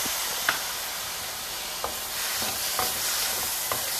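Chopped tomatoes are stirred into frying onions in a pan for mutter paneer, a steady soft sizzle and hiss with a few light clicks of a spoon against the pan, close and without talk.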